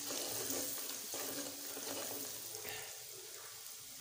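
Spices sizzling in a hot pan for a turnip (shalgham) dish, a steady close frying hiss with soft stirring scrapes throughout, and no talk.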